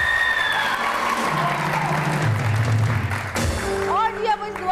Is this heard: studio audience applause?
yes